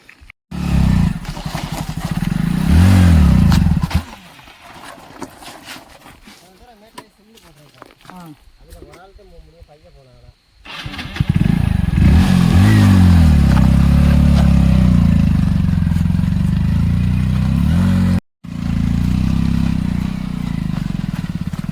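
A motorcycle labours up a rough, roadless hill path near a village outside Madurai, its engine revving and clattering loudly in bursts, dropping out briefly midway, with people talking over it.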